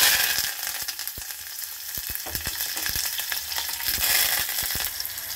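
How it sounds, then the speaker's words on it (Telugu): Onion pieces and curry leaves fry briskly in hot oil, a loud, dense, continuous sizzle with scattered crackles and pops throughout. "ఉల్లిపాయ ముక్కలు ఈ విధంగా వేగాలి."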